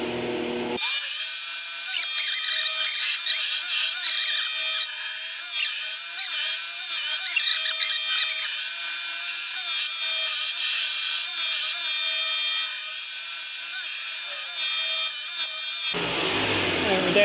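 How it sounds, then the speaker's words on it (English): A belt grinder runs at high speed while a knife blade is shaped, giving a continuous loud, bright hiss and whine with slight wavering as the steel is pressed to the belt, starting and stopping abruptly. "this is how we do that, right here on the belt grinder. Turn up the speed."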